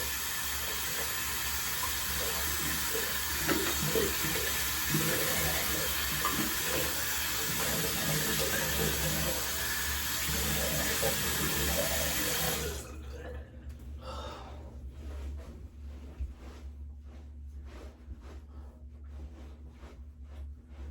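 Tap water runs steadily in a sink while someone rinses off after a shave, a close, continuous rush that cuts off abruptly partway through, leaving quieter small drips and movements.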